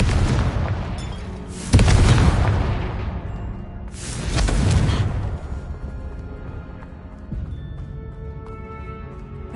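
Confringo blasting spells going off in Hogwarts Legacy, two loud booming blasts a couple of seconds apart, each with a crackling burst and rumbling decay over a low background hum.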